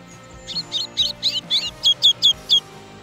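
A red-cowled cardinal sings loud and close in a quick series of about ten bright, whistled chirped notes in an even rhythm, with nothing else competing.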